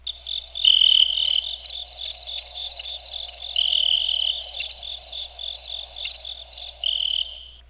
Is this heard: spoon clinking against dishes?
no